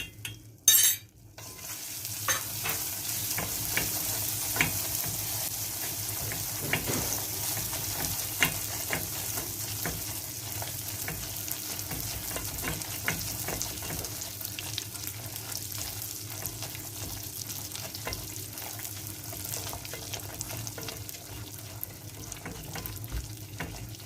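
A tablespoon of butter goes into a sizzling pan during the making of trileçe. A brief clatter opens it, then a continuous close frying hiss follows, with scattered stirring scrapes and no talking.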